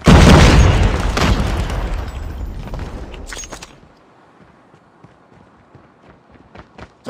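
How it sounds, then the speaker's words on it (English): A video-game grenade blast hits with a loud, heavy boom that rumbles for a few seconds, then dies away into quieter scattered combat noises and footsteps. "Grenade!"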